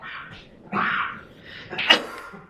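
A few short, sharp bursts of breath like sneezes, close by during a lecture, with a brief spoken exclamation among them.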